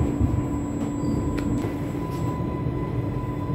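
Steady rumble of an Isle of Wight Island Line train in motion, approaching Ryde Pier, with a faint tonal hum and occasional brief rattles, continuous and fairly close, no voices.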